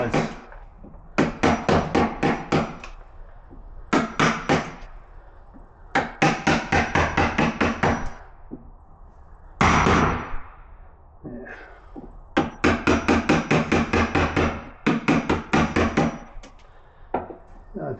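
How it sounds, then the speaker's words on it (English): A hammer drives a chisel into wood, cutting out a pocket for a British Standard deadlock. The blows come in rapid bursts of sharp knocks, loud and close, with short pauses between each run. "I just went down chisel size so I could nibble it out"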